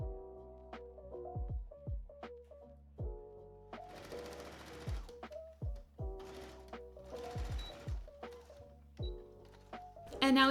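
A sewing machine stitches a godet into a skirt for a Princess Bubblegum costume, running in repeated short bursts with pauses, moderately loud over a steady tonal background.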